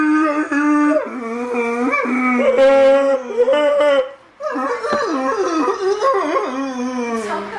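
A voice imitates a dying whale, drawn-out wavering howl-like moans that rise and fall, loud and close, with a brief break midway before another long, warbling cry.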